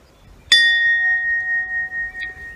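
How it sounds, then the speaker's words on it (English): A bell in the woods is struck once, a bright clear strike that rings on with a long sustained tone and slow wavering decay, joined by a faint second tap near the end. "there just happens to be a bell in the woods here"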